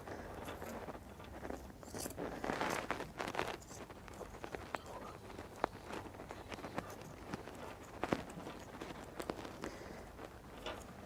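Scissors slowly cutting through thick fabric for an apron, a faint, close series of crunchy snips and rustles in an irregular rhythm, with a few sharper clicks standing out.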